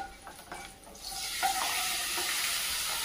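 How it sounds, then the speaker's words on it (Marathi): A ground spice paste and raw mango pieces for kairichi kadhi drop into a hot pan with turmeric. After a quiet start, a loud, steady hiss of sizzling builds and holds to the end. "आता आपण हे तयार केलेलं वाटण आणि ह्या कैरीच्या फोडी त्यामध्ये टाकून"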